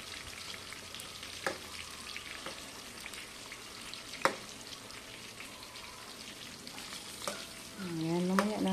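Banana slices fry in a pan with a steady, crackling sizzle, up close, punctuated by sharp spatula taps and clinks, and a voice starts talking briefly at the end.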